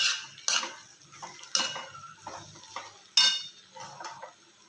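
Utensil scraping and clinking against a pan as poha is stirred over a low flame, irregular metallic knocks and scrapes close by, with a faint sizzle underneath and no talking.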